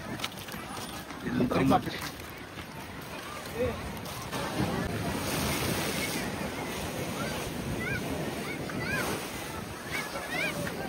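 Rough, churning sea surf at a beach near Murud, a broad continuous roar of breaking waves with gusting wind noise on the microphone, loud and close, while people talk faintly at times.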